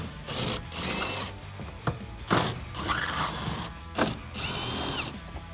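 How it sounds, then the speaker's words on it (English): A ratchet fitted with a T45 socket backs out the bolts holding the hardtop on a Jeep Wrangler JL, giving bursts of quick, close mechanical clicking separated by short pauses and sharp knocks. "Now we're going to go ahead and take off the bolts that are holding in our hardtop."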